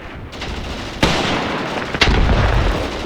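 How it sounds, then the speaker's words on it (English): Grenade blast and gunfire in the tactical war game Graviteam Tactics: Mius Front, with a constant roar of battle broken by two sharp booming impacts about a second apart. "Well, that's a grenade in his direction."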